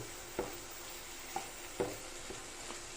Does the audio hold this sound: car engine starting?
no